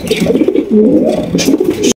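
Red checker racer pigeons cooing close by, a steady run of low burbling coos lasting about two seconds before cutting off abruptly.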